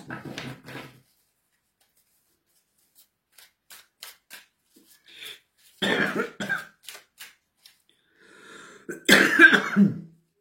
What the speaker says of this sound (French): comment ça se fait que tu tousses comme ça?